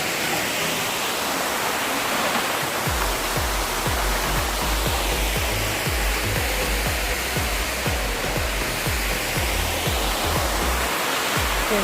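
Water crashes continuously at Thusharagiri waterfalls near Calicut, a loud, steady rushing roar with low thumping surges underneath throughout.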